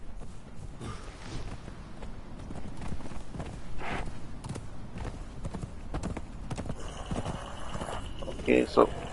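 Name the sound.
horse hooves while riding, from video game Conan Exiles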